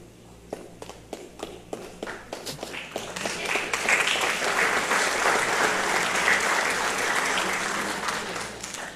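A church congregation starts with scattered individual claps that quickly swell into loud, sustained applause filling the room, with no speech over it.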